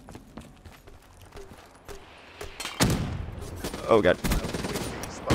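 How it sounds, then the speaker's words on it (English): Automated turret opens fire in a Call of Duty Black Ops 3 hardcore team deathmatch, loud bursts of rapid gunfire breaking in midway after quieter game ambience, with a man briefly exclaiming over it. "Oh, okay, that's a turret."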